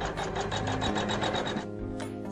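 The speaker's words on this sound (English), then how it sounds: "I'm just going to have the machine stitch out the pattern onto the battleizer" An embroidery sewing machine stitches a pattern onto batting, giving a close, rapid, evenly spaced mechanical needle rhythm that shifts tone briefly partway through.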